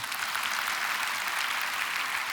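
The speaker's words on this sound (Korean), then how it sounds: "박수로 영광 돌리겠습니다." A church congregation at a Friday prayer meeting claps together in thanks: a dense, even wash of many hands applauding continuously, fairly close and without a break.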